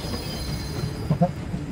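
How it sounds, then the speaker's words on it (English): A train rumbles past in the space survival game VOIDTRAIN, a steady low rolling noise with brief metallic wheel squeals in the middle and no speech. "Oh, shoot, another... Oh. Another train."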